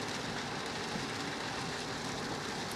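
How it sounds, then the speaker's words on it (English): Rain patters steadily on a car windshield during a drive near the Niagara River, a soft, constant hiss of drops with faint road rumble beneath, fairly quiet throughout. "It is raining, so you'll have to excuse the windshield wipers"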